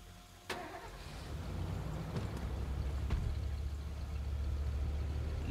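A car engine starts in the zombie video game State of Decay, with a sharp click and crank followed by a low engine rumble that builds and settles into a steady, moderately loud idle.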